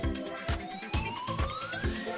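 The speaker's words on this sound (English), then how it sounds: "Let's sound that siren." A siren sound effect, rising in pitch, played loud over a rhythmic backing beat with regular thumping pulses.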